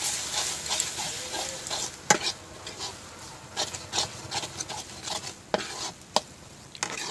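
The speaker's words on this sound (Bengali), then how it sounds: "তো দেখো আরেকটু কিন্তু নেড়ে চেড়ে নেবো আমি আবার" A carrot laddu mixture being stirred in a pan: irregular scraping and rubbing strokes with a few sharper knocks, close and moderately loud, with no talk.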